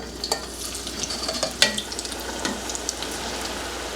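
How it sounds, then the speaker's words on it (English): Fries drop back into hot oil for their second fry, giving a steady crackling sizzle with scattered sharp pops and bubbling, close and continuous. "we're going to drop the first half of our fries back in for the second fry"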